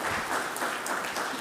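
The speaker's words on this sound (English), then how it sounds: "That round, the big round of applause to Srikanth." A short burst of dense, steady applause from an audience at an evening talk, even and fairly loud throughout with no voices over it.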